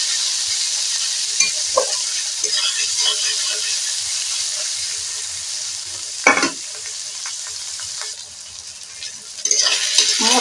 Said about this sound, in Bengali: পেঁয়াজ আর টমেটোটা আর রসুনটা ভালো করে ভাজা হয়ে গেছে